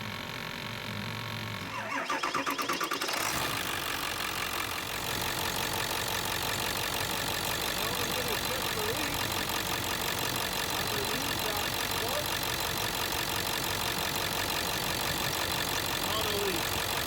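A 2001 Ford F-350 with the 7.3L Powerstroke diesel cranks briefly and fires up after a moment of quiet. It then settles into a loud, steady, clattering idle close by.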